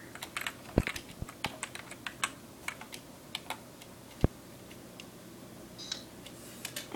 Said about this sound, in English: And typing in the same password that we did before.